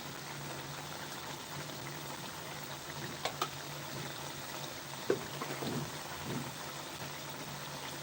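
Shing fish curry simmering in a pot over low heat, a soft steady bubbling hiss with a few faint pops and clicks, quiet and continuous throughout.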